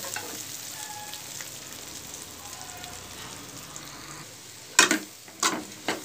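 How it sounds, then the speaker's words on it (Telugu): Onions and garlic frying in a pan, a steady soft sizzle throughout, then a few sharp louder crackles and stirring scrapes near the end. "వెల్లిపాయలను కూడా వేసేసుకొని బాగా వీటిని కూడా వేగనిద్దాము."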